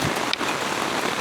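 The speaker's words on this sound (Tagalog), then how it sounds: "Habang umuulan, nagluluto." Steady rain pours down at a campsite in a dense, continuous hiss, close by and fairly loud, with no voices over it.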